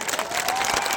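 An audience at a stage event claps in a short burst of dense applause, steady and fairly loud throughout the brief moment.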